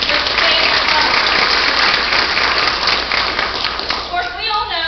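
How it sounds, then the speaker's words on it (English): Loud, dense audience applause at a school board meeting for an award winner, sustained clapping filling the room and starting to fade near the end as talk resumes. "let's give her a big round of applause for winning this famous award"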